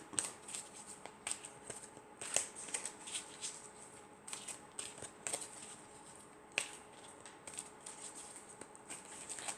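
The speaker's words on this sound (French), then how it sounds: "Alors, je vais prendre encore une carte." Tarot cards being shuffled and drawn from a deck, with soft papery flicks and light slaps at an irregular rhythm, close and faint, no voices.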